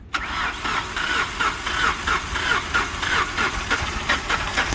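A Ford Crown Victoria or Mercury Grand Marquis engine cranks in a rapid rhythmic churn of starter pulses for several seconds, loud and close, without catching within the clip.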